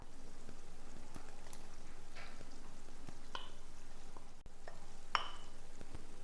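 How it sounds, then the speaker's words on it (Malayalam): Halved grapes are stirred into dates cooked in vinegar for a pickle, making soft, quiet scraping with a few faint clinks of a spoon against the pan, spaced out over a low background. "അപ്പോൾ ഇതെല്ലാം നമുക്കൊന്ന് നന്നായിട്ട് മിക്സ് ചെയ്ത് കൊടുക്കാം"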